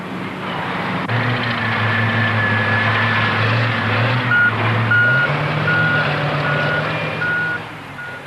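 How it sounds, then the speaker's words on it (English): Heavy dump trucks working in a limestone quarry, a deep droning diesel engine with its pitch rising partway through, and a regular series of high reversing beeps sounding at steady intervals over the rumble. "The trucks hold 40 or 50 tons of rock. Each shovel load is about 15 tons."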